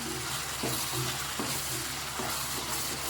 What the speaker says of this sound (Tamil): நல்லா பச்சை வாடை போய் எண்ணெய் பெரியற அளவுக்கு வதங்கட்டும்